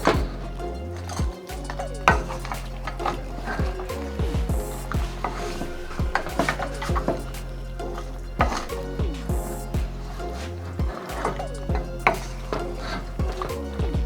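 Seafood boil ingredients being stirred together in a pot, with repeated wet clattering strokes and scraping, shell and utensil knocks recurring steadily up close, no talking.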